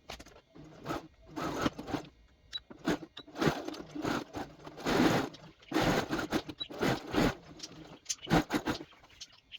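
A sewing machine stitches purse fabric in uneven bursts of fast whirring and rattling, separated by brief pauses and fabric rustling, moderately close and fairly quiet.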